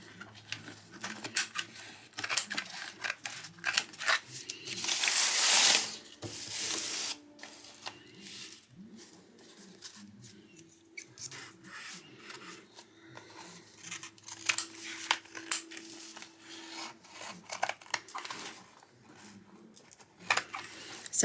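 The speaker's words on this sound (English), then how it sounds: "It's actually quite hard to cut through because the paint is so thick on the other side." Fabric scissors cut through canvas thickly coated with paint from an old painting, giving close, repeated crunchy snips and rustles in an uneven rhythm.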